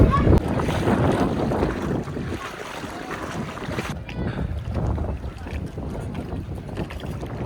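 A family power boat runs across the sea, with a loud, continuous engine and hull rush mixed with heavy wind buffeting and splashing water, and no clear talk.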